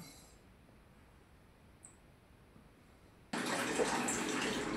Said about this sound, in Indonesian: di sini saya coba membersihkan pipa saluran air yang ke water heater dan ke keran air panas